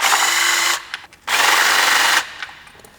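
Two loud whirring bursts from a power tool breaking loose T30 bolts on an MK7 water pump housing, the first running under a second and the second slightly longer after a short pause.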